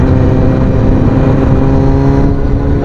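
A Suzuki Bandit 650 motorcycle engine runs loud and close, a steady, dense rumble that holds an even pitch throughout with no voices.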